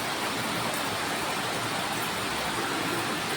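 Heavy, unrelenting rain during a flood-prone downpour, a loud dense wash of noise filling the whole moment without pause, close and constant, with nobody speaking.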